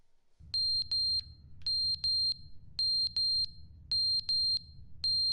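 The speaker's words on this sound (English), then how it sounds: "No, there's a smoke alarm still on." Smoke alarm in The Stanley Parable game chirping in repeated pairs of sharp, piercing electronic beeps at a steady rhythm, loud and close over a low background hum, with no voices.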